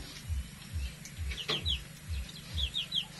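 Rhode Island Red chickens cluck in a regular low rhythm of repeated calls, with scattered higher chirps from other birds above them and no talking.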